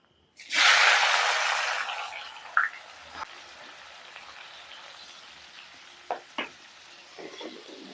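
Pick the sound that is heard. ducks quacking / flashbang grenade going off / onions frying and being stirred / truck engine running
onions frying and being stirred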